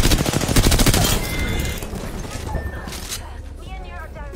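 Rapid gunfire in a video game: a dense burst of automatic shots up front that thins into scattered reports and fading echoes, close and loud.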